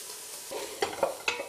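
Chilli ingredients cook gently in a saucepan with a soft steady sizzle, broken by a few brief stirring scrapes close by.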